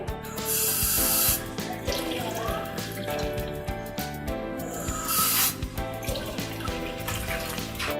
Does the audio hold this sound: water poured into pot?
yes